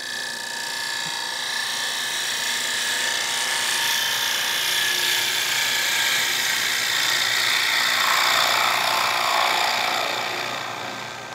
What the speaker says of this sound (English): I'll just trim it up with the GL5.